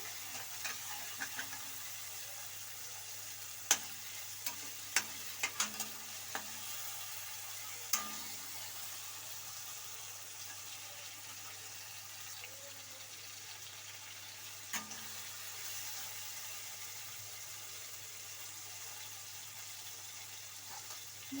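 Onions and tomatoes frying in a pan for a brinjal curry, with a soft, continuous sizzle and a few sharp clicks and scrapes as a spoon stirs and mashes them, faint and close.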